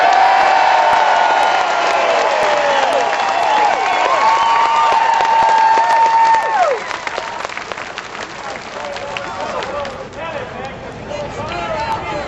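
Large Tea Party rally crowd cheering and applauding loudly and steadily, with whoops and scattered shouts, the roar easing slightly toward the end but staying dense throughout.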